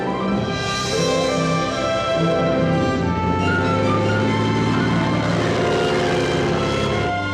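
Propeller engine of a small fixed-wing airplane in flight during a flying lesson, a steady loud drone with shifting harmonic tones throughout as the aircraft turns, no talk over it.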